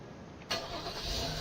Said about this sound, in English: so we can crank the engine